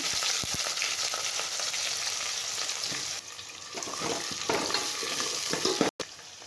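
Onion fries in hot oil with mustard seeds and vadagam in the pan, a steady, close sizzling hiss with occasional stirring clinks and scrapes, continuous with a brief dropout near the end.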